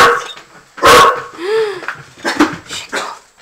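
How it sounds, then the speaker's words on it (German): A dog barks close and loud in a construction-site setting, a sharp bark followed by a whining yelp and a few shorter barks. "Mein Hund bellt."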